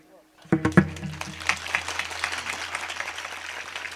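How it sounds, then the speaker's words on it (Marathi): Audience applause at a comedy kirtan, a burst of clapping that starts abruptly, swells, then continues as a steady, moderately loud crowd patter with a low hum underneath. "तुम्ही बघितलं का टाळ्या कुठं वाजल्या फक्त"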